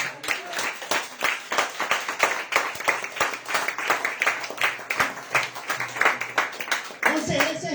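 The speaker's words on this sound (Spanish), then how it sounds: "Denle aplausos al Señor" Steady, dense clapping from a church congregation, continuous and fairly loud, with a preacher speaking Spanish over the applause.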